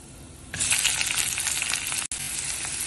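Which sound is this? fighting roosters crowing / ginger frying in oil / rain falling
ginger frying in oil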